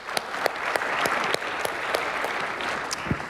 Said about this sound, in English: big round of applause for the people with their hands still up.